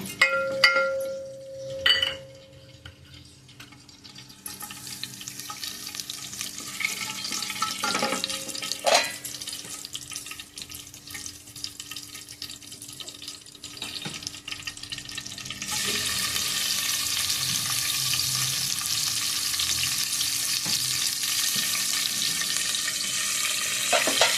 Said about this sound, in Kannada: ಸಾಸಿವೆ ಜೀರಿಗೆ ಹಾಕ್ತೇನೆ